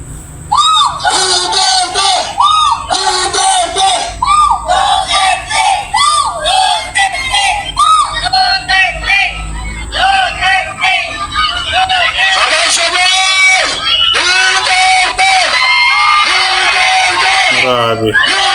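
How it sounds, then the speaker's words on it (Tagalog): A dense crowd at a Duterte appearance in Dumaguete shouts his name in repeated loud bursts of yelling and whooping. It sounds close and continuous, and someone talks over the noise. "Ang sigaw ng mga tao, Duterte."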